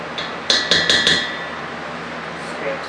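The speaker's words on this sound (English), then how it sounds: "Chop what I have in here and then continue to add it to the sausage." Ingredients chopped for a vegan Lao sausage: four quick, sharp, ringing metallic knocks in a tight cluster, then quiet kitchen background.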